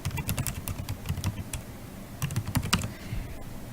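Rapid clicking of a computer keyboard as a web address is typed, close and clear in two quick bursts with a short pause between, no talking.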